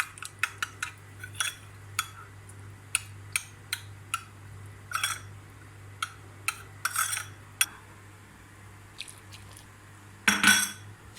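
A spoon stirs milk and custard in a pan, making a string of light, irregular metallic clinks and scrapes against the pan, with a louder rattling burst near the end over a faint steady hum.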